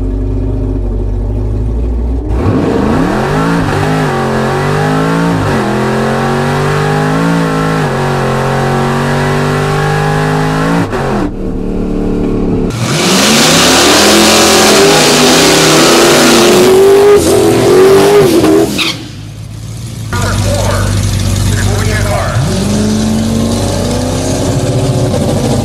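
A 1000hp Chevrolet Camaro ZL1 at a drag race event roars and revs loudly, climbing through gears in long rising sweeps, briefly cutting off, then surging again before fading.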